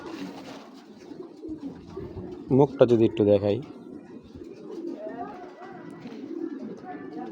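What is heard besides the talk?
racing pigeon cooing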